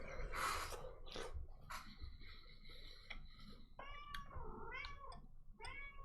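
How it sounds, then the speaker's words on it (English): Several drawn-out meows from a cat, some rising and wavering, come near and fairly clear between short breathy sounds, with no speech. "Meow, meow to you too."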